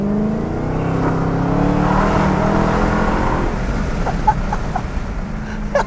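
A Dodge Challenger SRT Hellcat engine holds a loud sustained roar with rising and falling revs, the pitch sweeping up, then a rougher burbling idle with sharp pops.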